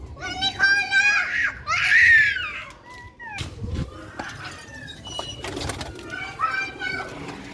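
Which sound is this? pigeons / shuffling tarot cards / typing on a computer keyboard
pigeons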